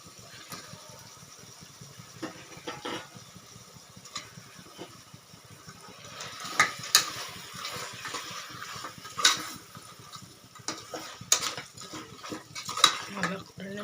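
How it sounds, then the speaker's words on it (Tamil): Chicken seasoned with chilli powder and salt is stirred and sautéed in a pan for a biryani, with a steady low background and scattered metallic spoon scrapes and clinks on the pan that grow louder and more frequent toward the end. "நல்லா 2 நிமிஷம் நல்லா வதங்கட்டும்."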